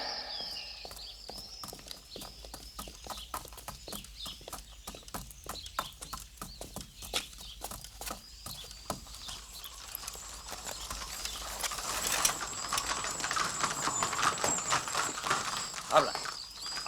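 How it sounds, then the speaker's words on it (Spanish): A horse's hooves clip-clop in a steady rhythm on hard ground, close and distinct for most of the stretch, then blur into rising commotion with birds and background noise. "¡Mi caballo!"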